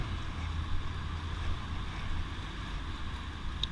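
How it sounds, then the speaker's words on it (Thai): Strong wind gusts buffet the microphone on the water beside a boat, a continuous rumbling roar with no voices. "ลมแรงมาครับวันนี้"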